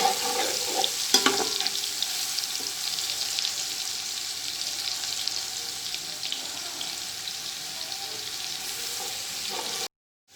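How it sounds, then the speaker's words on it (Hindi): Garlic ginger paste fries with onions in a pan for chicken yakhni pulao, a steady, even hiss of sizzling oil with a few stirring knocks near the start, then cutting off abruptly. "अब हम इसमें लहसुन अदरक का पेस्ट ऐड करेंगे। इसको भून लेंगे अच्छे से।"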